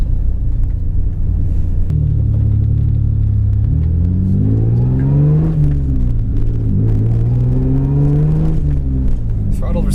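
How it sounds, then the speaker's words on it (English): A Mitsubishi Pajero engine with a full aftermarket exhaust and a throttle body mod accelerates with a deep, loud rumble heard from inside the vehicle, the revs climbing, easing off and climbing again. "That exhaust is pretty free flowing. If I'm being honest, it's a bit louder than I want it"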